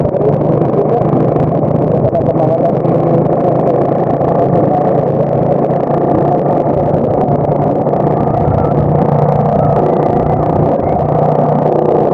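A motorcycle engine runs steadily throughout, a loud, even idle-like drone with a constant low hum close by.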